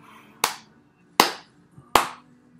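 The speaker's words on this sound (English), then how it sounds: "And when you breathe out, you're going to clap." Three loud, separate hand claps during an outdoor garden yoga breathing exercise, each sharp and close, spaced evenly with quiet gaps between them.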